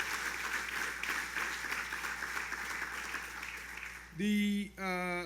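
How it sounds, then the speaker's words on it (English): Broad, steady applause from a crowd at a summer tourism launch event fills most of the stretch, then fades as a voice begins speaking near the end. "Let's give her a round of applause."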